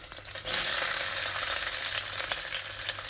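Onion dropped into hot oil with mustard seeds, cumin and curry leaves for rasam, bursting into a loud, steady sizzle after a brief quieter moment and holding close and continuous.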